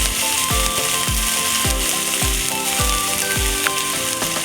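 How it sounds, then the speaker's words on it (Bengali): Green chili, ginger and onion paste frying in a pan with a loud continuous sizzle, punctuated by a regular series of dull thuds from stirring, alone. "এবার এর মধ্যে কাঁচা লঙ্কা আদা পেঁয়াজ বাটা দিয়ে দেব"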